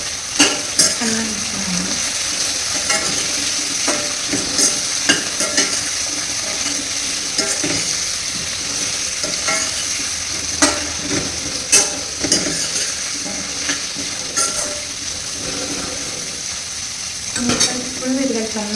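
Pumpkin palya fries in oil in a pan while a spoon stirs it, giving a steady sizzle with repeated scraping and clinks of utensil against the pan, close and fairly loud throughout.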